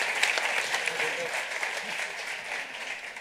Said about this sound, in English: Okay, a round of applause for them.